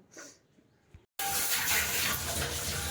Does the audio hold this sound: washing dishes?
yes